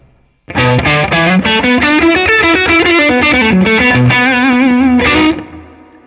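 A distorted Fender American Professional Stratocaster on its neck pickup plays a steady run of sustained notes with a warm, thick tone, loud and close, ending in a brief fade.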